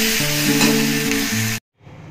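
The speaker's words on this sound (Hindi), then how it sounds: "देकी भलो भाबे भाजी नबा।" Sliced onions with two bay leaves fry in hot oil with sugar in a pan, a loud continuous sizzle with stirring scrapes that cuts off abruptly, then a quieter sizzle resumes.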